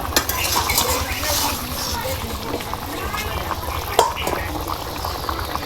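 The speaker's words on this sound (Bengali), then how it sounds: "এবার আমার তরকারিটা ফুটে উঠেছে, একটু নাড়া দিয়ে দেবো।" Vegetable curry boiling in a pot and being stirred, a constant bubbling simmer with a few utensil clinks and a sharp knock against the pot, under a person talking.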